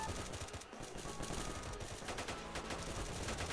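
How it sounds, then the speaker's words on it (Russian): Sustained gunfire from above in the S.T.A.L.K.E.R. video game, fast continuous bursts of machine-gun shots rattling steadily throughout without pause, dense and fairly loud. "Сверху вниз стреляют перехват"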